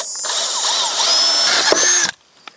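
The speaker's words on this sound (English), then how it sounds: "I'll mark my holes where I need to drill new holes in the brackets." A power drill bores new holes through steel mounting brackets for a wall-mounted mini split outdoor condenser, running loud and steady for about two seconds with shifting whine before stopping abruptly.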